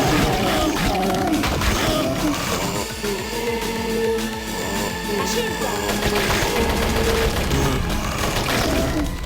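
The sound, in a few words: gunfire in video game Little Red Riding Hood's Zombie BBQ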